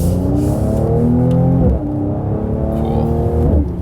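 A 2019 Mercedes C43 AMG engine drones loudly from inside the car, then drops pitch through quick downshifts with blips around the midpoint while braking into a hairpin corner, steady and close, with no talking.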